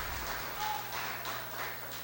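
A church congregation claps together in a soft, rhythmic pattern that sounds fairly distant and low in level, with an even pulse of hand claps and no voices on top.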